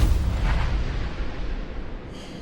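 A heavy gunshot blast in the video game Starfield, a deep booming report that rolls and decays over a couple of seconds, loud and close with no talking.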